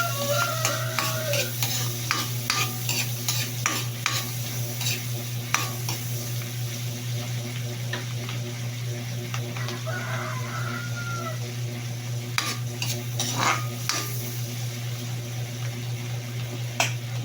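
Garlic frying in a pan with butter, a steady close sizzle with scraping and clinking as it is stirred, and a low hum underneath throughout.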